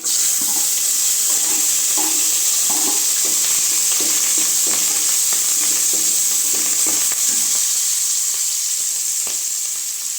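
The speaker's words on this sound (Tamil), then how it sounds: "கடுகு நல்லா பொறிஞ்சு வந்ததுக்கப்புறம் நம்ம ஏற்கனவே ரெடி பண்ணி வச்சுருக்க பச்சை மிளகாய் வரமிளகாய் கருவேப்பிலை வெங்காயம் எல்லாம் சேர்த்துக்கலாம்" Green chilies, dried red chilies, curry leaves and onion hitting hot oil with popped mustard seeds for dal sambar, a loud continuous crackling sizzle with rhythmic stirring scrapes throughout.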